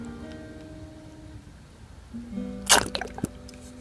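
Water is poured and splashes briefly during a hair-styling session, a short wet burst with a few drips that follows a stretch of low steady hum.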